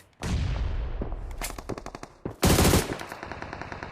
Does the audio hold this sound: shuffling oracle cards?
no